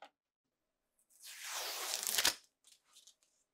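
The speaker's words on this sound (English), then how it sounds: "Finally, reinstall the two screws and remove the tape." Adhesive tape peeled off a GE refrigerator door after a door stop repair, a sustained ripping, crinkly tear lasting about a second and a half, close and fairly loud, followed by a few faint handling rustles.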